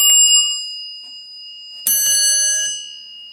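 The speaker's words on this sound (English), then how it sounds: "the bell board, which has an Otis, Dover, and a Westinghouse bell on it" Otis, Dover and Westinghouse elevator bells mounted on a bell board ring loudly at close range: one clear chime fades out, then after a pause a second bright strike rings on and decays.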